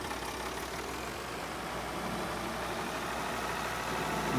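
A tractor engine idles in the Farming Simulator 22 game, a steady low rumble with a smooth, unbroken drone that swells slightly louder near the end, close and alone without any voices.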